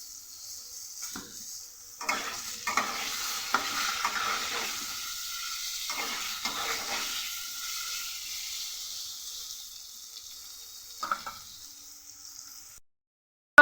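Food fries in a pan with salt and turmeric, giving a continuous hiss. Scraping stirring strokes come in bursts, and the sound cuts to silence at the very end.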